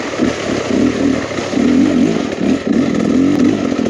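A 2023 Beta Xtrainer 300 two-stroke enduro motorcycle engine burbles at low revs, lugging with a rough, uneven chug and slight surges, close and loud with no talk.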